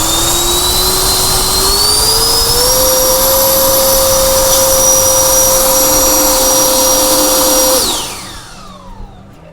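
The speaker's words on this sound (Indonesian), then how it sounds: "bila mana kalau saya naikkan perlahan-lahan, tentunya dia akan menghasilkan tekanan makin kencang seperti ini." A cordless LXT turbo fan booster blower running on a 2 amp battery, its whine rising in pitch as the speed is raised, then holding a steady high roar before cutting off and spinning down.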